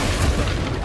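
The Confringo blasting spell exploding in Hogwarts Legacy: a single short, loud, dense boom that fills the whole brief moment.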